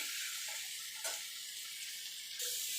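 Pumpkin and bitter gourd frying in a pan, a soft steady sizzle with a few light scraping stirs, close and fairly quiet, with no talking.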